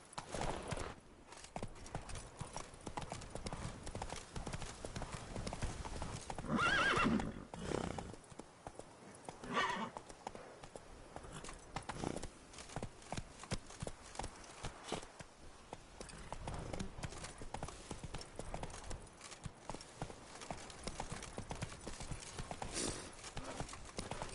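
The horse Roach trots in The Witcher 3, hooves clip-clopping in a steady, fairly fast rhythm that is continuous and close, with a brief snort or whinny-like burst partway through.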